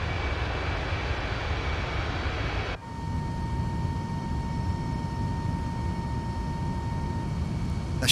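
A steady, loud roar from MD-82 airliner jet engines in a flight simulator video game (MaddogX) with a thin whining tone, shifting abruptly to a slightly different hum with a new sustained tone midway.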